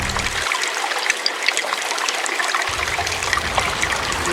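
Water trickles and dribbles steadily in a calm setting, a soft continuous flow with small splashes, fairly close and alone without talk.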